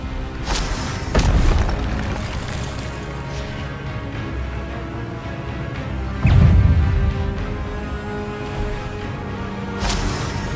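Booming spell impacts from the Expelliarmus disarming charm in Hogwarts Legacy, two heavy low thuds several seconds apart with a third lighter burst near the end, over a steady game music and ambience bed.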